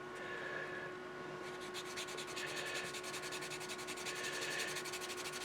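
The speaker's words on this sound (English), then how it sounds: "I need to do a little bit of sanding at the bottom because it won't go in as planned." Wood on a Drakkar Viking ship model being sanded by hand, a soft steady rasping with quick rhythmic back-and-forth strokes, close and quiet with no talking.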